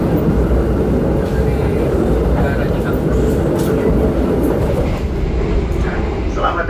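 A steady, loud low rumble of an Indonesian Kaligung passenger train at rest in a station, with broadband station noise and faint background voices throughout.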